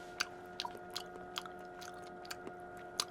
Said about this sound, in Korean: 육회를 일단은 먹어보도록 하겠습니다